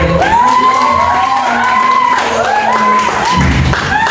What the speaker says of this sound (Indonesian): terima tepuk tangan buat kakaknya luar biasa ya